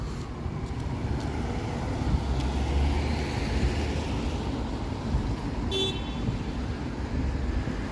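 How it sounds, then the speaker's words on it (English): A single short car horn beep rings out over steady downtown traffic rumble on a warm Saturday night in Toronto, brief and moderately distant, without voices. "That was a beep, not a honk"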